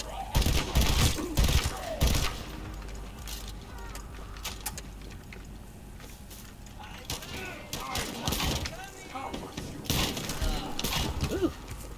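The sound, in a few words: shotgun gunfire in video game The First Descendant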